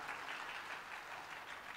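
An audience at a youth church service applauding: a brief, faint, even wash of clapping with no voices over it.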